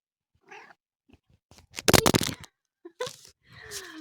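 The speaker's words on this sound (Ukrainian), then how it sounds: "Мяу." A cat meows several times in short, separate calls, with one louder, drawn-out cry in the middle and a softer, trailing meow at the end, close by in a quiet indoor setting.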